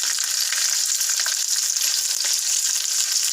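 Green chilies and curry leaves fry in hot tempering oil, a loud, close, continuous crackling sizzle with no break.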